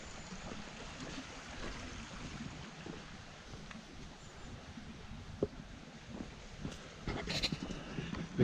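A river flows near the old bridge at Aberglaslyn, a steady, soft rush of water with some wind noise and a few faint knocks toward the end.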